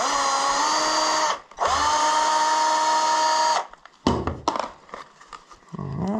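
A power tool, likely an impact driver or drill, unscrews the 8 mm radiator screws on a Honda Zoomer 50 scooter engine during teardown: two long loud whirring bursts, then short clunks and rattles, with one brief spoken word.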